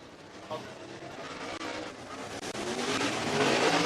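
Dirt track race cars roaring through a hot lap session at Thunderhill Raceway in Summerville, Tennessee, a dense engine drone that swells louder toward the end, with an announcer talking over it.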